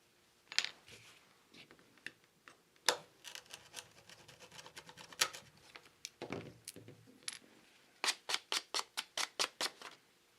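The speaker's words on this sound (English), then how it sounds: "So I'm going to cut it off about there." A fishing rod blank is cut to length with scattered clicks and scrapes, then a run of about ten quick, even sawing strokes. The sounds are close and fairly quiet.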